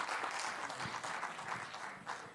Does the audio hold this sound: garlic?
no